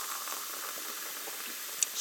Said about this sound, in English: And then after that, you pour in the cherry natural flavor